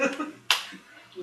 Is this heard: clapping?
yes